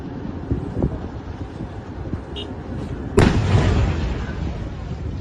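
A Libyan Army main battle tank explodes during a live-fire exercise outdoors, a single sudden loud blast cutting through wind noise and leaving a rumbling roar that lingers for seconds afterward.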